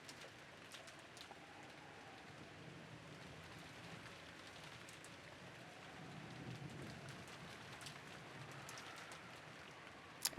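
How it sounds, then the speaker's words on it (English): Steady rain falls in the Umineko visual novel game, a soft continuous hiss with faint drips, quiet and even throughout, without voices. "disappeared beneath the sound of the rain"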